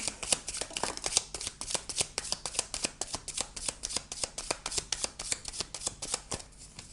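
Tarot cards being shuffled in a quick, regular riffle of crisp slaps and flutters, close and clear, repeating steadily throughout with no talking over them.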